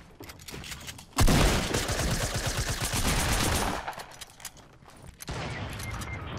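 Gunfire in the video game Fortnite during a duo battle royale match, including a sniper shot: a sudden loud crack followed by a dense rattling burst of shots, then a second sharp report later, with no talk.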